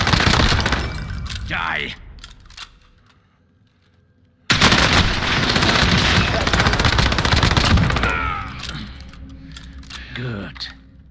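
Rapid gunfire bursts from a video game battle royale match with an airstrike and closing gas, loud and dense, broken by a quiet gap, with players talking over the shots throughout.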